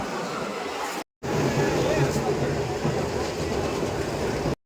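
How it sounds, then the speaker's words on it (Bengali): Riding aboard a train in West Bengal on a hot afternoon, with a steady loud rumble of the carriage and wheels filling the whole stretch, briefly cut once, with faint voices under the noise. "এখন ট্রেনে বাড়িতে যাচ্ছি"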